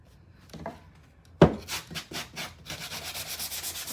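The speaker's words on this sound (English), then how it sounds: "let's go ahead and sand these down. I'm just going to use the block sander for these." Block sander rubbing over wood pieces, starting with light scattered scrapes, then a sharp knock and a run of steady back-and-forth rasping strokes that carry on close up and alone.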